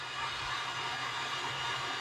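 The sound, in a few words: heat gun blowing hot air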